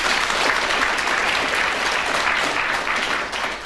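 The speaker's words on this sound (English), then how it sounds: "Clap if you think so." Dense, loud studio audience applause at a BBC radio comedy panel game recording, a sustained wash of many hands clapping that dips slightly at the end.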